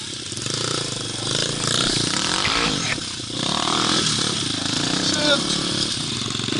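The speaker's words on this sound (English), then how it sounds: "This is the first time riding pit bike with boots." A pit bike engine buzzes and revs through snow in a late-spring Denver blizzard, its whine rising and falling unevenly with throttle blips, while riders talk over it.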